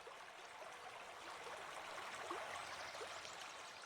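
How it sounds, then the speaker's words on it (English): A river flowing steadily, a continuous soft rushing and trickling wash of water with faint gurgles, even and moderately distant, with no voices. "We're noticing the sounds of the river"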